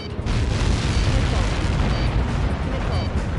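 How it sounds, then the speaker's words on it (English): A missile strikes in the combat flight game Ace Combat 7, and a heavy, sustained explosive roar fills the whole moment at high volume with dense rumble throughout. "How many got caught in that explosion?"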